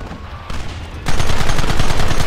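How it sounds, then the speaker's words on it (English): Gunfire in the Red Dead Redemption video game: a loud, dense burst of rapid shots that swells into a sustained volley of overlapping gunfire, close and intense, with no speech over it. "There they are! Open fire!"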